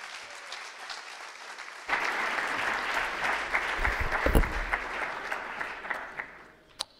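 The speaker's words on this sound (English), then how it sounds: "A warm applause to our professor." An audience at a tech talk event breaks into applause for a professor, starting suddenly after a quiet moment, with moderately loud steady clapping that gradually thins out toward the end.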